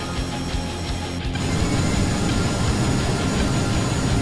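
A capable fighter aircraft's jet engine roars at high speed in a space combat video game, a loud, steady broadband rush that swells after a brief dip and holds unbroken throughout, with no talk.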